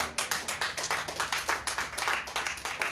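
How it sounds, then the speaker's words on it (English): Church congregation clapping steadily in rhythm, a dense run of sharp hand claps at a brisk even beat, loud and continuous with no talking. "Just this morning, clap for Jesus"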